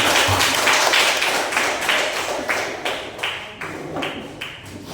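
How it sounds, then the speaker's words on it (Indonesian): Hands clap at a church gathering, first as a dense burst, then thinning into slower, distinct, rhythmic claps that fade, with no talk. "Tepuk tangan."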